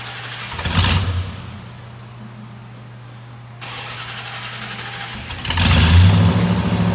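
A 1970 Plymouth Road Runner engine cranks and fires, with a burst of starter grinding, a quieter steady stretch, then the engine catching and roaring loudly near the end.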